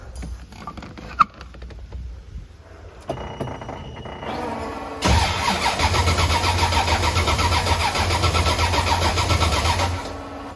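A car engine with a new 98mm Precision race turbo cranks with a few clicks and a starter whine, then catches and settles into a loud, steady rumbling idle.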